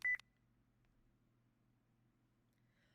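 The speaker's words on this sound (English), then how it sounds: "The phone call cuts off abruptly." A phone call in the video game Spirit Hunter: NG cuts off with a short, sharp electronic beep at the start, followed by near silence and a faint low hum.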